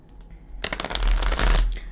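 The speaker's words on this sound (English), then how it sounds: "Pre-shuffle." Tarot cards being shuffled by hand in a riffling burst, a soft flutter first and then a dense, close run of papery slaps that keeps up for over a second.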